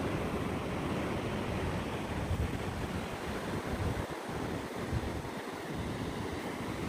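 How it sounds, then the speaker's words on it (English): Ocean water washing in and out over the tide pools at La Jolla, California at midday low tide, a continuous broad surf wash with wind buffeting the microphone. "the water is kind of coming in and out"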